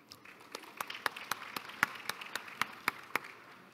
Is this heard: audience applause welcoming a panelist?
yes